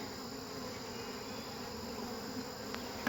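Honey bees at the back of a hive during installation: a faint, constant buzzing drone in the background, with a couple of soft clicks near the end.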